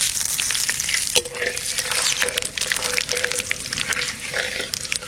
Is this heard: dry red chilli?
yes